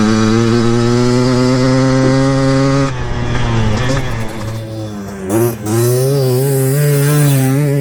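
A Yamaha Blaster ATV with an FMF pipe and near-stock engine revs wide open, a loud, close, raspy two-stroke whine that dips briefly mid-way and then climbs back to full throttle.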